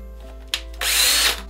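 A power drill bores into a pumpkin while it is being carved for Halloween, with a short burst and then a steady grinding whir that runs for about half a second.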